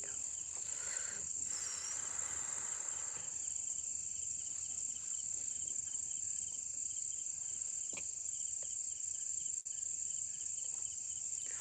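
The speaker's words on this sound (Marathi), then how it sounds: "रातकिड्यांचा किरकिर ऐकून येत आहे" A dense, continuous chorus of crickets chirping at night, a high steady trill with no voices, calm and even throughout.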